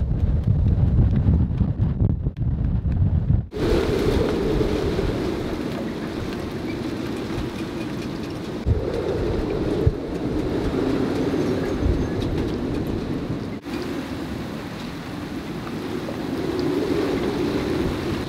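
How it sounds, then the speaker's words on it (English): Strong wind of about 30 knots roars steadily around an anchored boat, a deep continuous rumble with gusty surges and no voices. "It's so windy, I'm actually not getting at all wet here."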